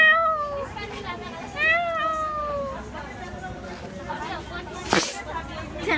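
Stray cats living under a parked car at the Philippine Embassy give a series of drawn-out, rising and falling meows close by, followed by a sharp burst of noise, with background chatter throughout.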